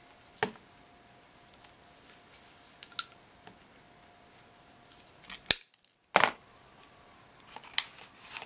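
A plastic bottle is cut with scissors in a quiet room, with scattered snips and crisp clicks close by and a faint steady hum underneath.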